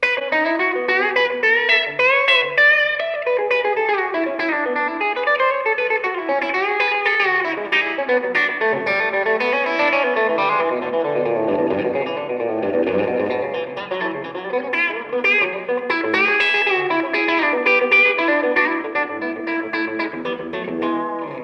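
Electric guitar played through a tape echo and a Color Box pedal, with dense, distorted sustained chords and repeating echoes filling the space, loud and continuous with no talking.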